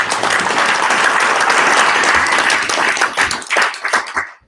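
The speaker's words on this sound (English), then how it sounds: "Round of applause for Spero." An audience claps steadily for a presenter being welcomed at a 1 Million Cups Provo meeting, a dense, loud burst of applause that thins into scattered claps before ending.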